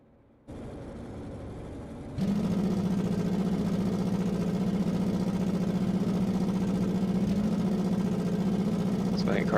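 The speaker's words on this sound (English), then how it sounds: "So I think car sitting at idle sounds like a prop plane flying overhead." A 1982 Formula 1 car idles on the grid at Monaco, giving a steady, loud low drone after a quieter start, with no one speaking.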